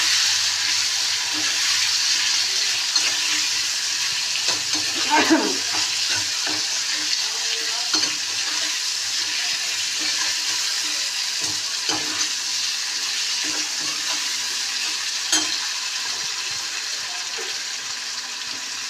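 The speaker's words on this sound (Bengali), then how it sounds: "আলু, পেঁপে, টমেটো সব কিছু একদম ভালোভাবে একটু ভাজা ভাজা হয়ে যাক।" Potatoes, papaya and tomato being stirred as they fry in a pan for a fish curry, a steady close sizzle throughout with occasional scraping stirs.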